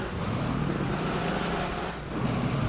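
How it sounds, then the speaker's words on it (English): An old truck engine in the GTA 5 game, a steady low rumbling drone with a brief dip near the end, heard alone with no talking. "This old truck, she's nice, but I ain't getting the traction on this thing."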